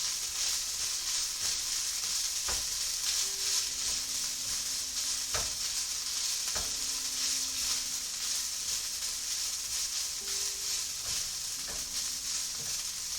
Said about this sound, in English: I'm gonna stir it now because it's been like 4 minutes.